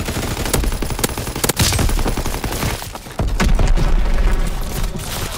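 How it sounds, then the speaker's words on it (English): A bomb goes off amid heavy gunfire in the Call of Duty: WWII video game, with loud, continuous bursts of machine-gun fire and booming impacts filling the battle scene. "Enemy bomb incoming."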